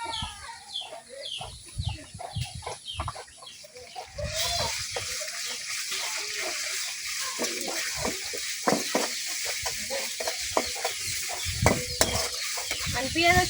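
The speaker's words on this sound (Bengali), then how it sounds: "আমি পেঁয়াজের সাথে আদা রসুন বাটাটা কিছুক্ষণ ভাজা নেন।" Onions frying with ginger-garlic paste in a village kitchen pan, with scraping spoon strokes and a steady sizzle that grows louder partway through, near and continuous.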